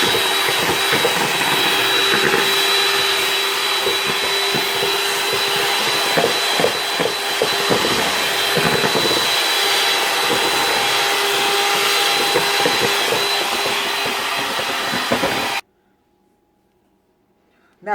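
An electric mixer beats egg yolks with sugar into a creamy mix, a loud steady whirring drone that runs unbroken for about fifteen seconds, then cuts off abruptly into near silence.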